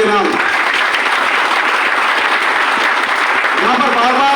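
An audience at an indoor health awareness program claps in a loud, dense, sustained round of applause that fills the whole stretch.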